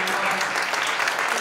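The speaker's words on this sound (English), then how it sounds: "Could we give another round of applause to our panelists?" An audience claps for the panelists at the close of a social emotional learning panel, a dense, steady round of applause filling the room throughout.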